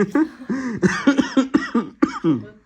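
A person with a cold coughs several times in quick succession, close and fairly loud, in a series of short rough bursts indoors.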